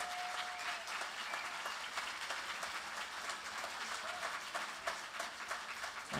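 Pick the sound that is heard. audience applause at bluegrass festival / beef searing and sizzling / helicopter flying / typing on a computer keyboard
audience applause at bluegrass festival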